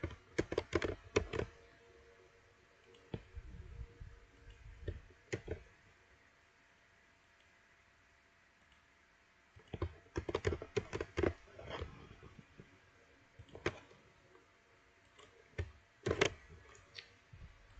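A computer keyboard tapped out in short bursts of quick, crisp clicks while entering shortcut commands, close-miked and separated by quiet gaps, with no voices.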